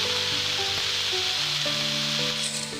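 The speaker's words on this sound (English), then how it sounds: "We have to stir it, keeping the flame low, because this rose apple has to be cooked thoroughly." Rose apple pickle with crushed asafoetida sizzling in a pan over a low flame while being stirred, a steady close frying hiss with a soft scraping stir and faint tonal sounds behind.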